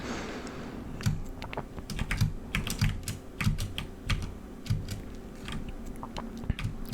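Rapid clicking of computer keyboard keys during play of the NES game Ninja Gaiden, close and crisp with irregular bursts of taps and brief pauses over a faint low hum, no talking.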